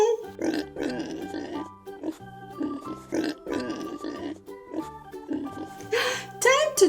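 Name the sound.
pig grunting and oinking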